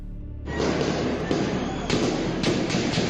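Loud sharp gunshots crack out during street unrest in a Kurdish city in western Iran, after a brief quiet start, several reports spaced irregularly over a rumbling, noisy outdoor background.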